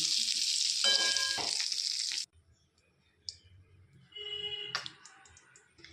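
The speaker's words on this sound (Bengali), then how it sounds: "হালকা করে ভেজে তুলে নিচ্ছি" Pieces of pointed gourd and prawns fry in hot oil, a loud bright sizzle for about two seconds that cuts off, then quiet clinks and a softer renewed sizzle with utensil taps.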